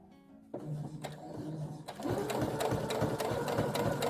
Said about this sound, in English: continue to sew